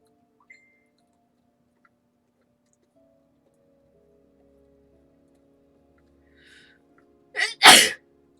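Two quick, close sneezes, the second louder, after a long quiet stretch with faint ticking.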